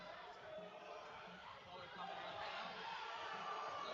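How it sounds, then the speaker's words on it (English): A crowd at a powerlifting meet cheers and shouts for a lifter, a rising rumble of voices that grows louder and denser over a few seconds, heard from some distance with commentary over it. "The crowd is absolutely getting around him."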